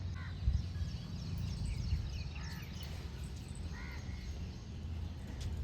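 Garden birds calling after rain, faint scattered chirps and a few crow-like caws over a soft, steady outdoor background, heard from a distance with no talk.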